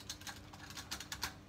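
Keys pressed on a Trust GXT 830-GW gaming keyboard, a quiet run of irregular clicky taps heard close up with faint background hum and no talking.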